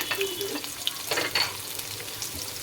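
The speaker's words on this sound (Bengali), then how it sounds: "অল্প একটু তেল দিয়ে দিব। এই দেখো, বেশি না, একদম সামান্য। এই যে কেটে রাখা পেঁয়াজ, আদা কুচি আর এইটা একসাথে দিয়ে দিব।" Chopped onion and ginger sizzle in a small amount of oil in a pan, making a soft, steady frying hiss with a few light clinks from stirring.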